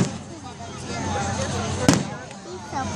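A single sharp firework bang pops over Tom Brown Park in Tallahassee, Florida, rising out of crowd chatter and nearby voices, with a faint fainter burst afterward.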